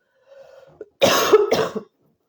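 A soft murmur, then a loud harsh cough in two bursts, close by, followed by quiet.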